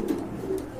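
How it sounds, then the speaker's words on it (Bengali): A pigeon gives a low, soft coo, close by and brief, over faint room ambience. "আর এখানে রয়েছে আরেক জোড়া কবুতর ব্লু বার কালারের ভিতরে"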